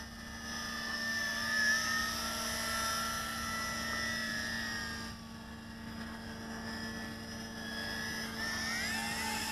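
A Yizhan Tarantula X6 quadcopter drone flies nearby, its rotors producing a steady high buzzing whine with shifting pitch as it maneuvers, faint and continuous without speech.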